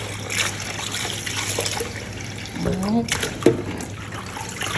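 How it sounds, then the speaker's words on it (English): Callaloo leaves are rinsed in water, with sloshing, trickling and splashing close by and a louder splash near the end, while a voice talks over it. "Alright, I rinse it twice."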